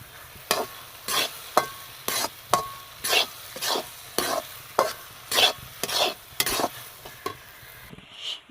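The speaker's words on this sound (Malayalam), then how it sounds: "കുറേശ്ശെ ഇങ്ങനെ നെയ്യ് ഒഴിച്ചു കൊടുത്തിട്ട് ഇങ്ങനെ ഇളക്കി കൊടുക്കണം" A spoon stirs carrot, beetroot and semolina sweet with ghee in a pan, making steady rhythmic scraping strokes about once a second over a faint sizzle, with no talking.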